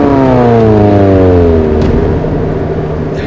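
A McLaren Senna's engine revs hard and loud up through the range, a strong rising, slightly wavering tone with no talk over it.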